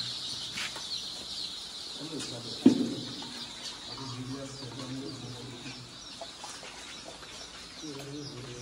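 Many chickens cluck and murmur in a scattered, continuous chorus on a poultry farm, with one sharper squawk early on and faint background noise throughout.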